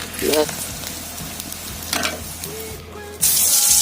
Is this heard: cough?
no